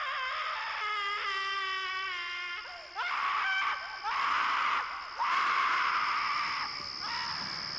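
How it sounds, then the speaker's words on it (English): A voice wails and moans in distress, rising into anguished screams in several drawn-out bursts with brief gaps between them. "you'll hear some screaming in pain from someone"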